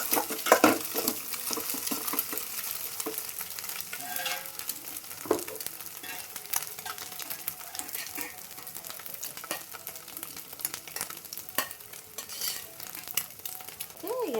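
Egg rice frying in a pan, heard as a continuous crackling sizzle with frequent scraping and clinking of a spatula stirring against the pan, close and moderately loud.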